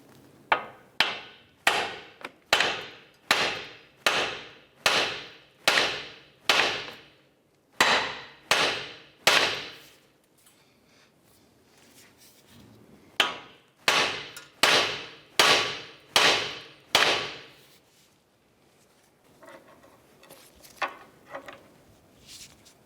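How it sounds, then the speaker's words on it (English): Hammer blows strike the steering knuckle of a 2010-2018 Volkswagen Jetta to free the ball joint, loud sharp metallic hits in steady rapid bursts of about ten, with pauses between groups. "strike the knuckle right here, right where the ball joint goes up into, with a hammer"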